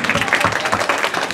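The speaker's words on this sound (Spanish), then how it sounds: "Un aplauso a toda esta chulada." Short burst of audience applause at a Virgin of Guadalupe feast celebration, a brief, fairly loud patter of clapping from a gathered crowd with faint voices mixed in.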